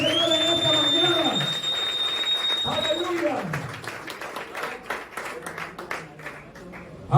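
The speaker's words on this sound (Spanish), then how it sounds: "Denle un aplauso al Señor en esta mañana" A church congregation breaks into scattered applause that builds in sharp claps as a preacher's voice and a high tone fade, growing denser and louder toward the end.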